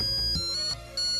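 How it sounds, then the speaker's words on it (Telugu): A phone ringtone plays in a scene from a Telugu comedy film, a bright repeating electronic melody in two short bursts with a brief gap between them, loud and close, with no talk over it. "ఎనీ టైం ఫోన్ రావచ్చు."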